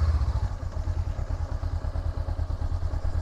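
A motorcycle on a riding school practice lot chugs at low speed with a steady, rhythmic engine pulse, close and moderately loud, during a slow turn-and-stop drill; no voices are heard.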